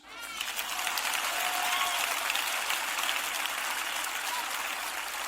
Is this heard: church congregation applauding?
yes